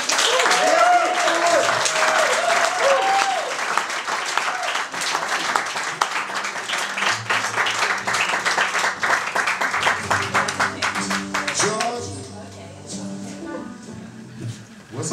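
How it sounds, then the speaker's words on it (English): A comedy festival crowd at the Hill People's Comedy Fest in Stamford, New York, applauds loudly and continuously, with cheering voices mixed in, before the clapping fades under talk from the stage. "Let's give a round of applause for Chris."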